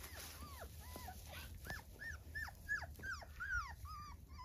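A young puppy on grass makes a rapid series of high whimpers and yips with a brief low growl, close and fairly quiet against faint outdoor background.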